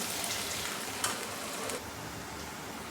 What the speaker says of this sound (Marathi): कांदा आहे तो थोडा परतून घ्यायचा